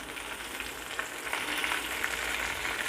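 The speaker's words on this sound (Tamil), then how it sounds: "மல்லித்தழையும் சேர்த்து நல்லா வதக்கிக்கிடுவோம்" Coriander leaves frying in a pan while venpongal is prepared, a steady, close sizzle of oil that holds an even level for the whole stretch with no talking.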